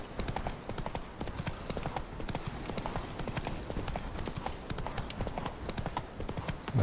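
Horse hooves clip-clop steadily and close in The Witcher 3, a brisk, continuous rhythm of hoofbeats on the ground that runs throughout with no talk over it.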